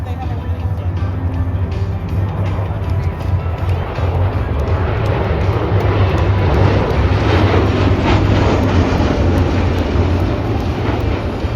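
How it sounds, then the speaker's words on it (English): MV-22 tilt-rotor aircraft fly past at an airshow in McMinnville, Oregon, giving a steady, loud, broadband rumble with a low droning pulse that holds for the whole stretch, with faint crowd talk underneath. "And review by these two tilt-rotored aircraft from the Moonlighters and Miramar. Here are the MV-22s."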